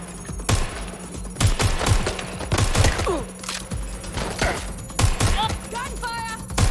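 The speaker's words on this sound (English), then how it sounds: "Gunfire!" Gunfire in Watch Dogs Legion on Xbox Series S: repeated sharp shots and bursts crack through the scene, some close and loud, with a voice speaking between the volleys.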